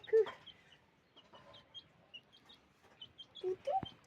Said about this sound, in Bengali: এই দেখো মুরগি চলে এসছে।